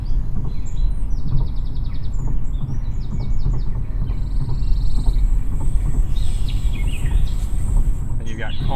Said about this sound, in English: This is Lively Forest.